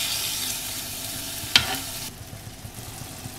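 Dried sangri beans being stirred in a pan with red chilli powder, turmeric and salt, a steady soft scraping and sizzle with one sharp clink of the spoon partway through, fairly close.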